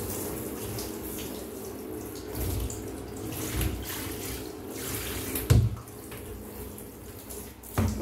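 Water runs steadily from a tap into a basket during toy cleaning, a continuous splashing stream with a few louder knocks and clatters as items are handled.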